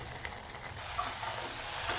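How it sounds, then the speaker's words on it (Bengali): Spice paste sizzles faintly in a pan as it is stirred, giving a soft crackling fry with small scraping accents. "এবার এটাকে একটু ভালোভাবে নাড়াচাড়া করে এটাকে শুকিয়ে ফেলতে হবে।"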